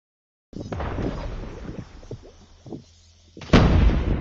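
Video game gunfire and explosions: a loud blast opens, followed by rattling shots and pops, then a second heavy explosion near the end, close and punchy.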